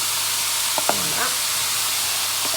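Minced meat frying with browned onions in a pan for chili con carne, a loud continuous sizzle and hiss with a few brief scraping stir sounds and a short voice sound near the start.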